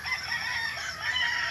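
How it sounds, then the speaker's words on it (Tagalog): A rooster crows and chickens cluck in a rural provincial backyard garden at seven in the morning. The crowing is steady and fairly close, with a continuous, harmonic call and no talk over it. "May mga manok."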